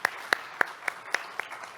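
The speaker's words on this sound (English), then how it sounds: "Please give them a really big round of applause again." Applause for the program committee at the IMID 2021 conference opening ceremony, heard as six evenly spaced, sharp claps close by, fairly faint, with no talk.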